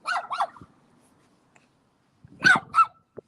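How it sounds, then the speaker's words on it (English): An angry dog barks in two short bursts, a pair of sharp barks followed by a pause and then two more, fairly close and alone without talk. "That dog, man. He's angry."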